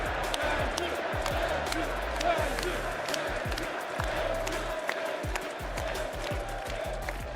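A large crowd at an Apex Legends LAN final roars continuously, with sharp repeated bangs and claps punching through the dense noise, while an amplified voice carries over it.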